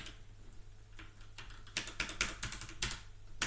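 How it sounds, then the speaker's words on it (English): Keys clack on a computer keyboard as a password is entered during a Fedora Linux setup, a quiet patch first and then a rapid, uneven run of close, sharp taps with no voices. "There we go, typing in our password."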